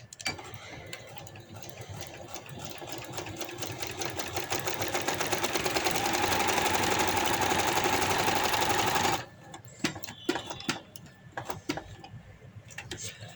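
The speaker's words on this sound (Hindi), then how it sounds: "अब मैं इस तरफ को घुमा लूँगी और इसके नेक की सिलाई लगा दूँगी।" A sewing machine stitches the neck of a party-wear maxi frock, its needle clattering in a rapid, steady rhythm that builds louder for about nine seconds, then stops, leaving scattered handling clicks.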